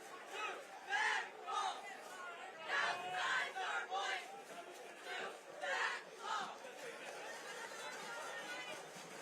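A crowd at a night high school football game in Lockport, New York, roars and shouts in rising and falling waves, loud and close, with chatter filling the gaps.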